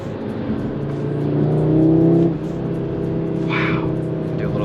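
An Audi RS3's engine revs with a steady drone that swells and then settles, heard from close by with wind noise and no speech.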